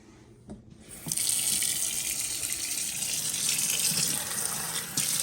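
Water running from a tap into a container for thinning paint, a sudden steady hissing gush that starts after about a second and continues loud and close to the end, with no talking.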